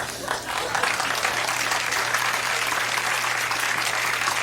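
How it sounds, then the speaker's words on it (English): An audience at a 1992 Denis Leary stand-up comedy show applauds in a dense, steady wash of clapping that holds at even loudness for a few seconds, with a low hum beneath. "Wonderful applause."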